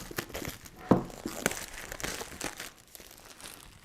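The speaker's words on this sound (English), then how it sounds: "take off the plastic wrap" Plastic wrap crinkles and crackles in irregular bursts as it is peeled off a headphone box, quiet and close.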